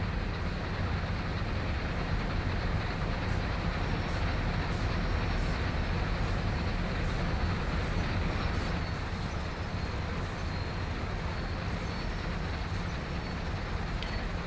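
A freight train led by a heritage-painted locomotive rolls steadily around Horseshoe Curve, a loud continuous rumble of engines and wheels with faint clicking from the rails, unbroken for the whole stretch.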